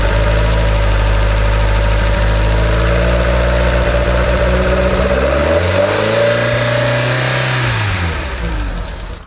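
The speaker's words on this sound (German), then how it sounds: "Bei dem hier gezeigten Modell 5S handelt es sich um einen leistungsstarken Renault 8 Gordini Vierzylinder-Reihenmotor mit 94 SAE PS." A Matra Djet 5S with a Renault 8 Gordini four-cylinder inline engine runs loud and close, revving and then dropping in pitch as it slows toward idle, with no talk.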